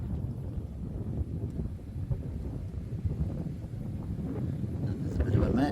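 Gusty wind at the Mount Nelson Signal Station lookout in Hobart, Tasmania, a steady low rumble buffeting the microphone throughout and swelling louder near the end, with a person's voice briefly audible.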